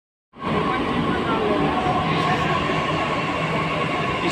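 A Delhi Metro train at Chhatarpur station rumbles steadily after an abrupt start, a loud continuous roar with a faint tonal hum running through it.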